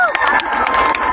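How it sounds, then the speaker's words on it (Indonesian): Crowd at an outdoor village concert in Teluk Pandan breaks into clapping and cheering, a dense wash of applause with scattered shouts running through the whole short stretch. "Tepuk tangan dulu buat Teluk Pandan."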